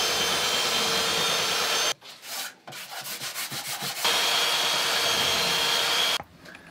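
Sandpaper on a power sander rubs steadily across rough-sawn wooden boards for a speaker stand, loud and close. A short lull with scraping follows, then a second long sanding pass.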